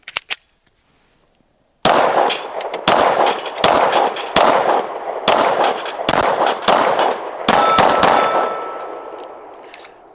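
A Derya DY9 fires Armscore hollow point ammunition, a rapid string of about eight loud, sharp close reports with metallic ringing after each shot, following a brief click and a short silence.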